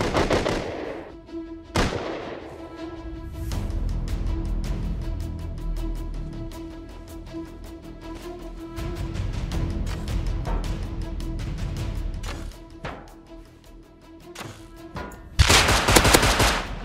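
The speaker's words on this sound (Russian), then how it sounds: "А вот, походу, и наш дружок стреляет." Gunfire in the survival game Rust: repeated rapid shots and bursts ring out over several seconds with sharp cracks and rumbling echoes, moderately loud, ending in a loud burst of noise.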